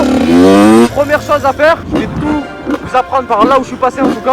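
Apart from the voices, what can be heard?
motorcycle engine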